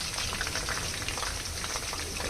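Potato slices for aloo chips crackle and sizzle steadily in hot oil, a dense, even frying hiss close by with no talking.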